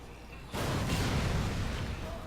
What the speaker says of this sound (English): And stand next to the explosions.